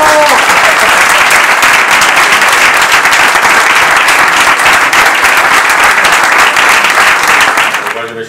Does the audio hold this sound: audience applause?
yes